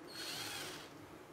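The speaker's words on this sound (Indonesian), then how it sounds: "akan kita coba bor ini" A KOVA 20 volt cordless hand drill gives a short, faint whirring burst about a second long, with no other sound.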